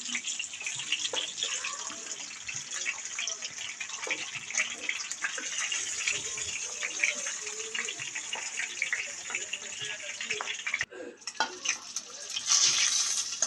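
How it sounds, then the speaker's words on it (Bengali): Spiced fish frying in a pan makes a continuous dense sizzle with scattered pops and spatter, steady throughout with a brief dip near the end, heard up close and alone. "মাছগুলোকে একটু মোচমোচে করে ভেজে নিতে হবে।"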